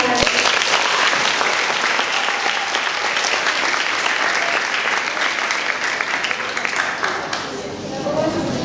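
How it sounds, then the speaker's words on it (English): Junior high school English competition audience applauding participant number 1, a loud, sustained wash of many hands clapping that carries on for several seconds before easing slightly at the end. "Give applause for number 1."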